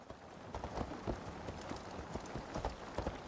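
Horse hooves clip-clopping in Assassin's Creed Valhalla, Wrath of the Druids, near a ring fort: a quiet, steady run of rhythmic hoofbeats repeating evenly throughout, at a moderate distance with no talking.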